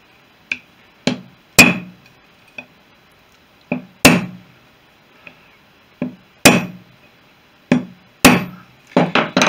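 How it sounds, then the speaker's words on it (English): Light hammer taps on a rivet seated on the round bar of a Fisher Youngster V aileron control rod, about a dozen sharp metallic strikes at irregular intervals, some in quick pairs, close and clear with no voices. "the trick I was taught years and years ago was just to lightly tap"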